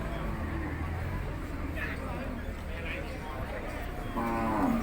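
Cattle at a busy rural livestock market moo in a few low drawn-out calls, fairly distant beneath constant crowd and vehicle noise, with someone talking nearby.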